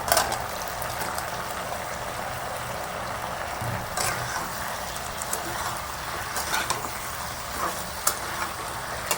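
Okra and mango pieces being stirred in hot oil for a prawn and tok dal dish, giving a soft, even sizzle broken by occasional spatula knocks against the pan, with faint talk at times.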